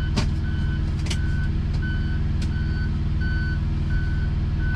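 A heavy-haul truck reverses while hooking up to its trailer, its backup alarm beeping in a steady, evenly spaced series over a loud diesel idle rumble, with a few sharp clanks near the start.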